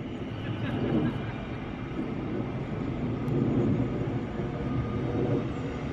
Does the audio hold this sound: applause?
no